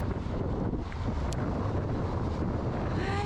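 Strong wind buffets the microphone at a beach in South Australia, a loud rumbling roar that stays constant and close throughout the short stretch.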